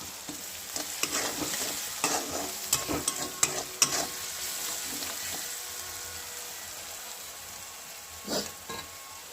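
Pav bhaji vegetables mash and cook in a pan, a moderate sizzle running under a cluster of irregular scraping and pressing knocks early on, then a quieter steady simmer with one more knock near the end.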